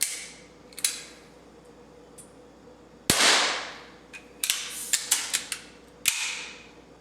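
Baikal IZH-46M .177 pellet pistol fired outdoors, sharp single cracks with a loud shot near the middle followed by a quick series of snappy clicks and pops, close and otherwise quiet.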